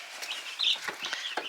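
Cornish Giant baby chicks cheep in a box, a cluster of short, high, overlapping peeps close by.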